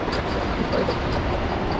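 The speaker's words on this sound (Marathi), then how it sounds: "इथून वंदे भारत ट्रेन गेली राव." A Vande Bharat train passing close by, a loud continuous rumbling rush of wagons that fills the short moment.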